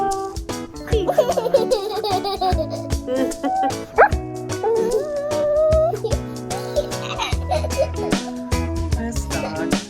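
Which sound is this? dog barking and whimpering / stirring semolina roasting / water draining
dog barking and whimpering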